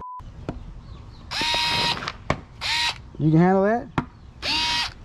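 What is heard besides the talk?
Fanttik NEX L1 electric screwdriver driving screws into wood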